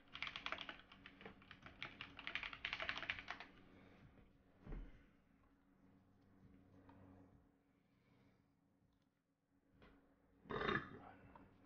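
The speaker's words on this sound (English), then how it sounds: "Ooh, don't burp." A short throaty burp sounds near the middle of a run of quick computer keyboard typing in a quiet room, with a second louder burst of sound near the end.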